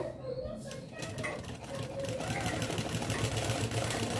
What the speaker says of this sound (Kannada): ಈ ಥರ ನೀಟಾಗಿ ಸ್ಟಿಚ್ ಹಾಕೋತಾ ಬರಬೇಕಾಗುತ್ತೆ